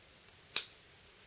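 A single sharp snip as white 28 gauge floral wire is cut, one brief crisp click standing alone in quiet.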